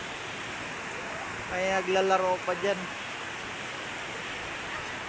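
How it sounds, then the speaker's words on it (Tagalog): Heavy rain pours steadily at a new public market in San Jose del Monte, Bulacan, a dense constant wash heard from a sheltered upper floor, with a brief voice speaking over it midway. "Sobrang lakas ng ulan."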